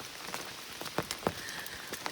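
Rain falling on a tent at a campsite on the Appalachian Trail, a steady close patter with scattered louder drops tapping the fabric, no voices.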